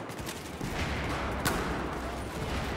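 Gunfire in the Battlefield 4 video game, a dense continuous wash of shots and battle noise at steady loudness, with one sharper crack standing out midway.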